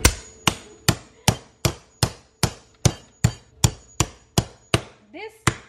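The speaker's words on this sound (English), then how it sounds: "bring the hammer to the kitchen when you have to fight a chicken" A hammer pounds raw chicken pieces on a kitchen surface to break them up for a pollo guisado stew, landing about thirteen sharp, loud strikes at a steady, even rhythm, with a brief vocal sound near the end.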